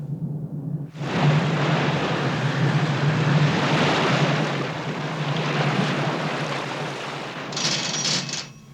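Steady loud engine roar of outboard motors and the ship Calypso's reversed propellers with churning water, continuous throughout after a quiet start, with a hissing burst near the end.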